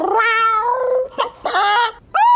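A cartoon creature that is half chicken and half cat gives loud, close meows: a long drawn-out wail, a brief squeak, another whining meow and a short final mew, with no other voices.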